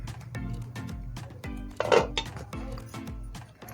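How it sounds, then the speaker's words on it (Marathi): A lid lifted off a pot of egg curry on a gas stove, a run of close metallic clinks and clanks of pot and lid, with one brighter ringing clink near the middle. "आपण झाकण उघडून बघूया."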